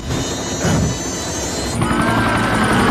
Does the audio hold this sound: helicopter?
yes